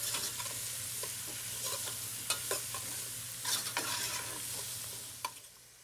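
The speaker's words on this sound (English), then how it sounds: "we're going to cook this pretty slowly for about 10 or 12 minutes until the garlic starts to get lightly browned" Garlic cloves and mirepoix cook slowly in a pan with a soft, quiet sizzle, broken by irregular scrapes and clicks of a utensil stirring, over a faint steady background hum.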